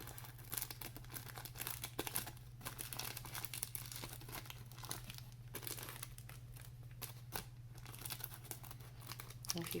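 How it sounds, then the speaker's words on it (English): Cellophane is trimmed around the edge of a craft wing, giving faint, close crinkling and crisp snips in irregular bursts over a low steady hum. "have to trim around the edge of the wing here to follow its shape. Get rid of that excess cellophane."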